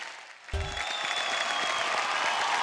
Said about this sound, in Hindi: एक बार अलका जी और आप ही के लिए जोरदार तालियां।